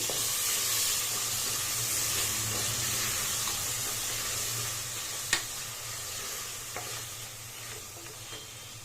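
Chopped tomatoes fry in oil in a pan with a steady, soft sizzle that fades slightly, broken by a sharp utensil clink and a few faint scrapes.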